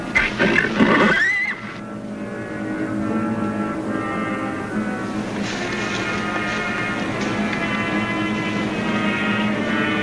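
A horse neighs loudly in a short, shrill whinny in a 1950s TV Western, followed by a steady low rumble and scattered background noise.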